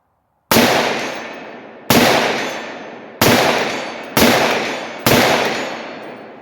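An AR rifle firing 300 Blackout rounds at a 100-yard range: five sharp, loud shots spaced about a second apart, each with a short decaying echo and no talking.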